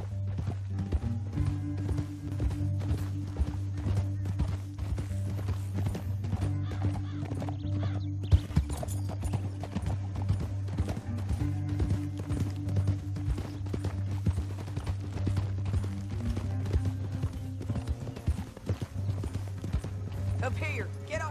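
Horse hooves clip-clop steadily at a walking pace in the Red Dead Redemption 2 western game, a continuous rhythmic trot sitting under music and occasional talk.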